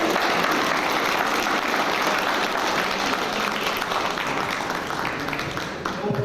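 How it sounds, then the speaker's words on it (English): An audience gives a round of applause at an evening stage event, a thick, sustained wash of clapping at a steady, fairly loud level throughout, with no voices rising above it. "Let's give Karen another round of applause."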